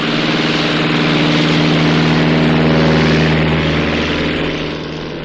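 A loud propeller fighter plane engine in a Tintin radio drama roars steadily at close range, swelling slightly then easing off toward the end.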